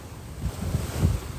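Gentle ocean waves roll in at Pantai Gurenggeh beach in Marang, Terengganu, a steady low surf wash with wind rumbling across the microphone and no voices.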